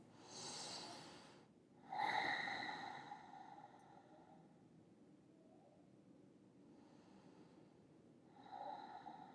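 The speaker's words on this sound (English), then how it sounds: "Just 3 deep breaths." Deep breaths during a gentle partner yoga stretch, a few slow airy inhales and exhales heard up close and alone, with quiet pauses between them.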